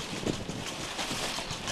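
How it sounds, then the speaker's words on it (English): Wind buffeting across a sailboat deck on a blustery day, a steady rushing gust with microphone rumble and faint water sounds, continuous and fairly soft with no talk. "You can see it's a pretty windy day today"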